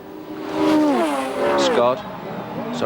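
Peter Brock's and Dick Johnson's race cars rush past down Conrod Straight, engines roaring steadily while a loud commentator voice talks over them throughout.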